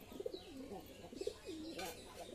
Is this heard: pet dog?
no